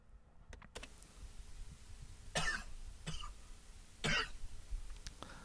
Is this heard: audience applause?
no